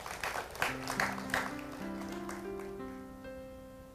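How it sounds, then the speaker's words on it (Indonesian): A few seconds of audience clapping in uneven bursts fade quickly as sustained musical tones rise and take over. "Tepuk tangan adik tercinta."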